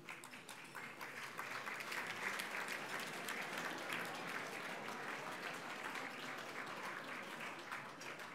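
Steady, full applause from a large gala audience greeting the founder's introduction at an awards evening, a dense continuous patter of many hands that holds at an even level throughout.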